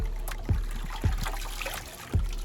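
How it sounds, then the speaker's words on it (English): Water trickling and dripping from a wrung-out rubber chamois at a car wash, a continuous wet dribble with a few heavier splashes landing at intervals. "Dip it in there and wring it out real good."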